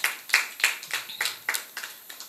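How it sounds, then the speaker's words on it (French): About nine sharp claps ring out in a quick, slightly uneven run, fairly close and clear, from an audience at a talk about becoming a surgeon. "Sous vos applaudissements"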